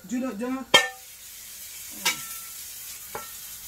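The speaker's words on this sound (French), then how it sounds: "Je le retourne à l'aide d'une poêle" A galette being flipped with a frying pan: a brief voice, then a sharp metallic clunk followed by two fainter knocks over a quiet background.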